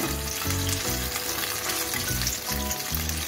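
Katla fish fries lightly in oil with a constant close sizzle and crackle, heard beneath a low tonal background of music, no talking.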